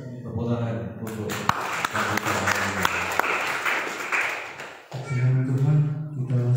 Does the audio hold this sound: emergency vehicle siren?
no